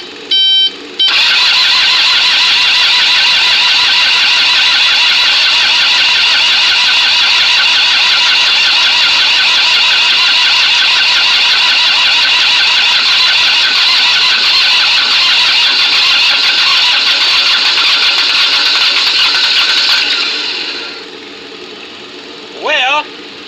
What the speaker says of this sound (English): So we're going to reach up here and crank this thing over, see if we get a slug of fuel.